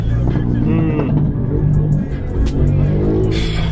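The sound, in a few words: road traffic heard from inside a car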